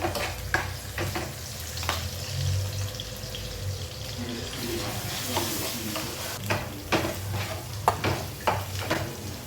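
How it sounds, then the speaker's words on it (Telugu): Ginger garlic paste hits onions fried to light brown, giving a steady sizzle broken by repeated clicks and scrapes of stirring, with some talk in the background. "ఇప్పుడు ఇందులో అల్లం వెల్లుల్లిపాయ పేస్ట్ వేసేద్దాము"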